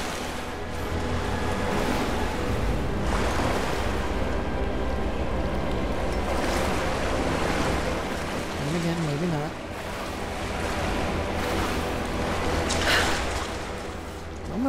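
Rushing water roars steadily throughout a cave scene in the Rise of the Tomb Raider video game, a broad continuous wash with faint music and game sounds layered over it.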